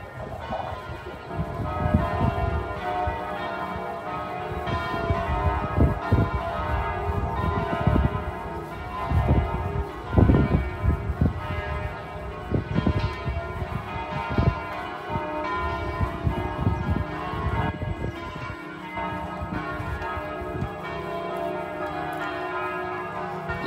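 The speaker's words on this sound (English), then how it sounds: "I think these are the bells of the Holy Sepulchre." Church bells of the Holy Sepulchre in Jerusalem ring out at sunrise, layered clanging peals with irregular strikes that carry through the open air from a moderate distance, sustained the whole time with no talk.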